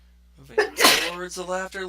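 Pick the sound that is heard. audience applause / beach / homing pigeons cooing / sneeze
sneeze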